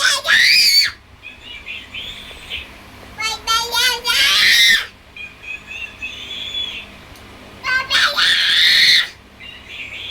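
A child lets out several loud, high-pitched screams in bursts, with quieter whiny vocal sounds between them, close by.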